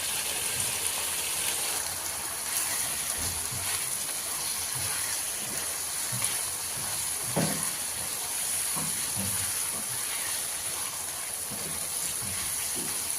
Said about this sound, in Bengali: যে মশলা কষানো হয়ে গেছে এখন সবজিগুলো দিয়ে দিচ্ছি